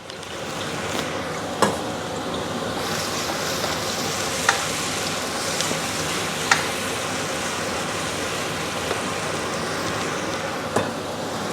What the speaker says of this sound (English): we'll start by giving the onions a bit of a fry. We'll add our garlic.